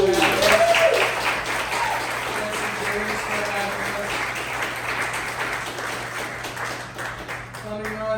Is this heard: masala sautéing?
no